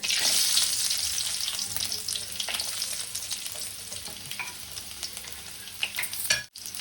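Ginger and garlic sizzle and crackle steadily in hot oil, a dense close frying hiss with faint stirring clicks that briefly cuts out near the end.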